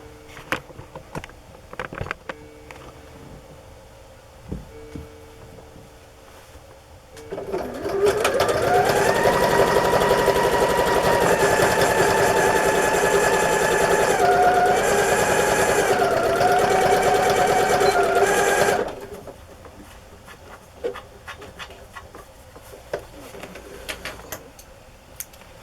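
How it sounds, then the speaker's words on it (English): A sewing machine stitches a small fabric trim piece onto a fabric journal cover, a loud steady whirring run of about ten seconds that starts and stops abruptly, with quiet room noise before and after. "I'm going to sew this little piece on for fun."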